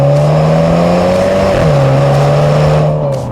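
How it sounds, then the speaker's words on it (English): A 2023 MINI Countryman JCW with a special exhaust revs loud and close, its engine note climbing, dipping briefly at a gear change, then rising again. "The JCW gets a special exhaust,"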